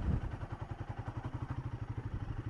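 A motorcycle engine runs in second gear at low throttle, giving a steady, rapid, thumping beat throughout with some clatter, close and moderately loud.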